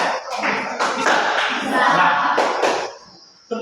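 A group of workshop participants claps together on a counted one-two pattern, giving sharp, loud, overlapping bursts in uneven clusters, with a voice calling out between them.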